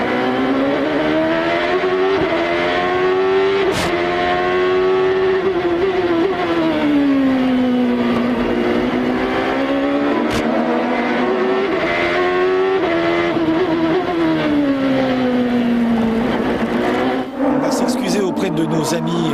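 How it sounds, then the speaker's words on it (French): Loud Champ Car World Series engines roar continuously at the Long Beach Grand Prix street circuit, pitch rising and falling with gear changes as the cars lap, with commentary talk over them. "On découvre avec vous ce beau circuit et le bruit des moteurs."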